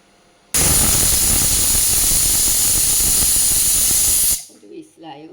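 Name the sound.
pressure cooker whistle while cooking jackfruit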